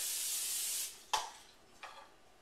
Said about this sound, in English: I'm going to spray some Pam on it.